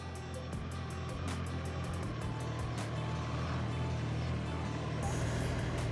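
A Triumph Street Triple 765 R motorcycle in its restricted 35 kW version pulling away in first gear, a steady close engine drone with wind noise that holds even throughout and swells slightly near the end.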